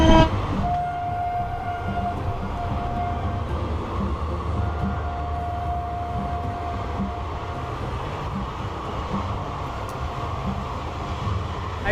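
A Howrah local train runs along the rails with a loud, steady rumble and rattle heard from inside, and a long horn-like tone sounds twice across the ride.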